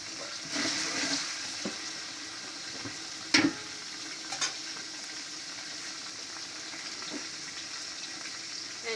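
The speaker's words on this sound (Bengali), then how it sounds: "সুন্দর করে বেস্তা ভেজে নিচ্ছি" Onions frying in a pan for a ten-person biryani, giving a steady soft sizzle throughout with a few sharp stirring clinks near the middle; no talk.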